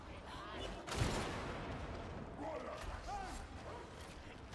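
Sniper gunfire in the Darktide video game: a sharp loud crack near the start, then scattered fainter shots and clatter under voices.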